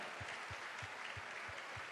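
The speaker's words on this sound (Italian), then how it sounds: "Un applauso a tutta la squadra" Applause from a crowd at a Lega Nord party gathering in the Pala Geox arena in Padua, a faint, steady wash of clapping heard from a distance, with a few low thumps pulsing underneath.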